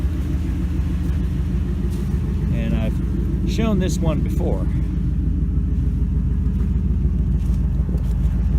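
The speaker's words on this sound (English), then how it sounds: "I did a nice custom exhaust on this one, as you can hear." A 2008 Ford Expedition's 5.4 V8 with a custom exhaust idles in a steady deep rumble close by, while someone talks over it.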